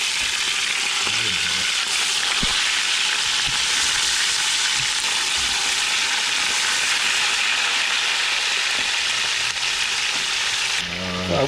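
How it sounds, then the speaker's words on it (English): Meat sizzles loudly and steadily in a hot pan while searing for pork skin braciole, a dense continuous hiss with a few faint knocks and scrapes, no talking. "Putting a nice sear on this meat."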